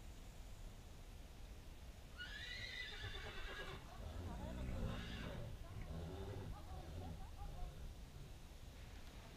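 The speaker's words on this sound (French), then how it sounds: "Donc là on entend les quelques hennissements de Mansour qui arrivent, donc Po se ramène." A stallion neighs as horses are brought together in a field, one long, loud whinny rising and falling, followed by shorter nickering calls over a steady outdoor hiss.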